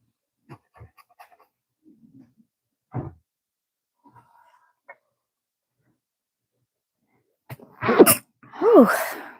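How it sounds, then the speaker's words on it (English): Two sharp, loud human sneezes close to the microphone, coming one after the other near the end after a stretch of quiet with faint small sounds. "Just sneezed."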